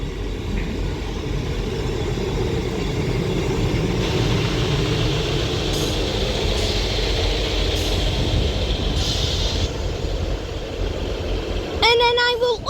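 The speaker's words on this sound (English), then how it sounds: "I will also catch the rear set of this double East Midlands Railway Class 158 when she departs" A double-set East Midlands Railway Class 158 diesel unit runs nearby with a steady low engine rumble that holds through the whole stretch, while people talk intermittently over it.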